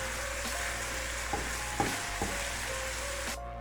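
A spoon stirs salt and ground black pepper into a sizzling pasta sauce in a pan. Soft frying crackle runs throughout, with a few light scrapes and clicks before the sound cuts off.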